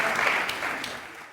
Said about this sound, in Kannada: ಅವರಿಗೂ ಹಾಗೆ ಅನ್ಸಿದ್ರೆ ಚಪ್ಪಾಳೆ ಹೊಡಿತಾರೆ